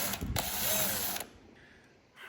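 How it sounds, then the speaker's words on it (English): A drill fitted with a 5/32-inch bit grinds briefly and loudly into a rivet on a Ferrari F430 Spider during convertible top removal, then stops and leaves quiet room tone. "this new drill bit really makes a big difference in drilling out this rivet."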